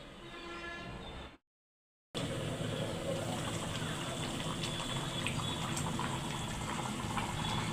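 Water poured into a simmering curry, a steady close gush of liquid that runs without a break after a brief silent gap.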